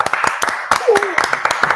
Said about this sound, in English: Can we have a round of applause for Patrick?